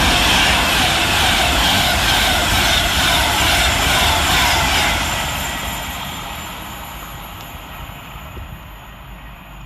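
A Class 390 electric train passes fast through Tamworth railway station with a loud, bright rushing rumble that holds for about five seconds, then fades steadily as it pulls away.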